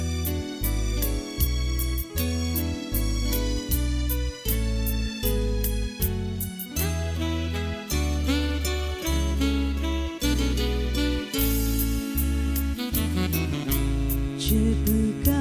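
A guarania plays as a full recorded song with steady low bass notes and sustained melodic accompaniment, loud and continuous throughout.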